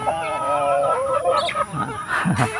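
Native chickens cluck and squawk close by in a steady, busy flurry, with a goose-like honk or two mixed into the noisy barnyard chatter.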